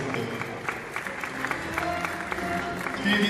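Audience applause fills a show at a Baku national costume house, a dense steady patter of clapping with crowd noise and some voices mixed in, swelling slightly toward the end.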